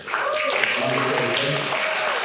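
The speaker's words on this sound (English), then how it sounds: "Let's give you a round of applause for that." An audience claps in a steady round of applause, soft and somewhat distant, under someone talking throughout.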